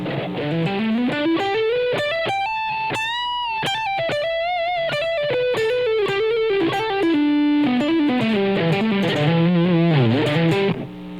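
A distorted electric guitar plays a continuous melodic line with sustained, bending notes, loud and alone for the whole stretch.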